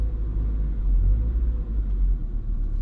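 Steady low idle rumble of a 2022 Toyota GR86 engine with the clutch pushed in, a continuous deep drone heard from inside the car with no revving, holding level throughout.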